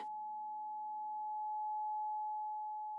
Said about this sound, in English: The vibration of 852 hertz hums in your chest